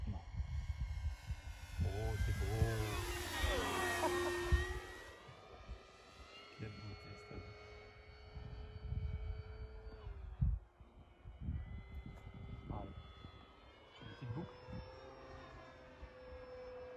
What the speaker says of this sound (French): Donc là, c'est un décollage mi-gaz.